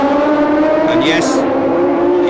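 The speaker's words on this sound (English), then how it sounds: "The car has the most fantastic sound to it." Lafitte's 1976 Formula One race car screaming past at the US West Grand Prix, a loud sustained high-pitched engine wail with a rising gear note, under a commentator's voice.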